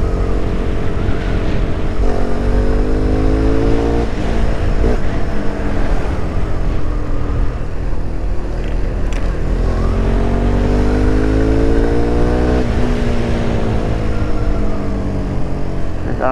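A car engine pulls loudly in third gear at about 50 km/h through city streets, revving up and easing off in repeated rising sweeps; the drone stays close and continuous throughout, with no talking.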